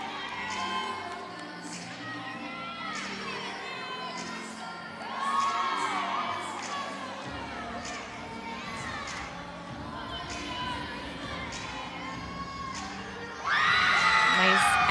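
A crowd at a women's college gymnastics meet cheers and whoops throughout a floor routine, a steady roar of excited voices with louder surges partway through and a big shouting swell near the end.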